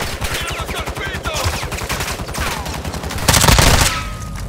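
Gunfire, including a shotgun, in the online shooter Call of Duty: Modern Warfare 2 Warzone 2.0. It comes as a rapid, close run of sharp cracking shots, followed by a louder dense burst near the end.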